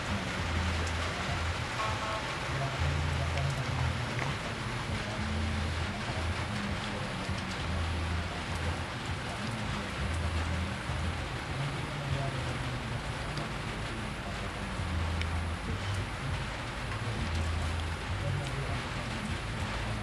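Heavy rain pounds an AirAsia Airbus A320neo airliner during takeoff. The dense, even hiss of the downpour blends with a low engine rumble, and muffled voices can be heard underneath.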